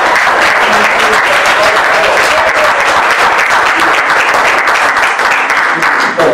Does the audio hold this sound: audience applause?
yes